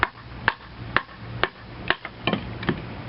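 A knife with a thick 3/16-inch blade being batoned into wood, giving about nine sharp, evenly spaced knocks roughly every half second, close and fairly loud, with no talking.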